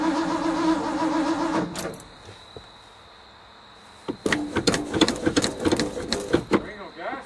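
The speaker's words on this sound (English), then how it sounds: "Turning it over a while to make sure we get oil up." A Ford truck engine that has sat for five years is cranked over by the starter, a close rhythmic whirring churn that stops and is then followed by clattering knocks and handling noises.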